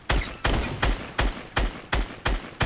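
Rapid gunfire in the video game Fortnite: about eight loud, sharp shots at an even, quick rhythm, each with a short decaying tail. No talking.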